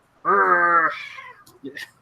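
A house cat lets out one loud, drawn-out meow close by, trailing off into a fainter second call and a short chirpy sound.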